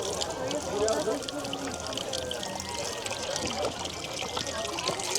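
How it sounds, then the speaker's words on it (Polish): Spring water trickles and splashes from a dragon-shaped fountain spout at a drinking-water pavilion in Japan, a steady close pour, with a voice talking over it. "piję sobie wodę ze smoka, to jest woda ze źródeł"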